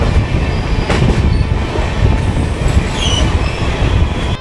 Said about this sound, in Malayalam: ഉച്ചയ്ക്കുള്ള ചൂടൻ ട്രെയിൻ യാത്ര.